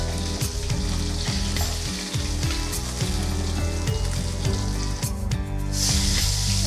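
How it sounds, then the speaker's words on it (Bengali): Fish frying in hot mustard oil in a wok, a loud, dense crackling sizzle that runs steadily throughout with no talking, punctuated by occasional spatters and the clatter of a utensil. "এবার আমি বাকি মাছগুলো ভেজে নেব।"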